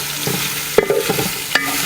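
Onion and green chilies frying in a pan for a Kerala chicken curry are stirred with a utensil, giving a few scraping, clattering strokes over a soft background sizzle, close and fairly loud.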